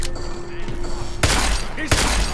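Gunshots in the Deus Ex video game: two sharp, loud blasts about half a second apart, ringing out over a busy game soundscape with a voice briefly heard beforehand.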